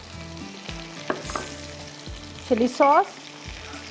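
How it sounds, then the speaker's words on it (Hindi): Chicken frying over a slow flame with soy sauce and chili sauce gives a steady, soft sizzle, with a few utensil knocks and a brief spoken phrase over it. "बड़ा मज़ेदार सा फ्राई हो रहा है यहाँ पर स्लो फ्लेम पे"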